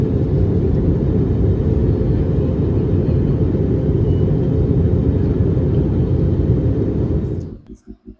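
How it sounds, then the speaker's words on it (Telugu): Steady, loud low cabin roar inside an airliner on the flight from Bengaluru to Port Blair, an unbroken engine drone that cuts off abruptly near the end. "15 minutes తర్వాత ఫ్లైట్ అయితే స్టార్ట్ అయింది."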